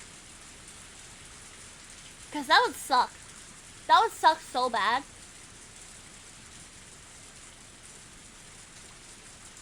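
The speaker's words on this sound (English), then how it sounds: "The sound of falling raindrops was fierce as always." Fierce rain from the Higurashi video game falls in a steady, soft hiss throughout, while a person speaks briefly over it in the middle.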